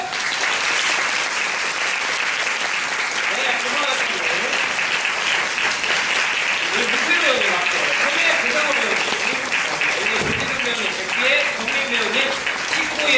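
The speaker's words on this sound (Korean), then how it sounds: "박수 주세요!" Sustained audience applause at a post-show talk for a stage production of Trainspotting, loud continuous clapping with some cheering and voices threaded through it.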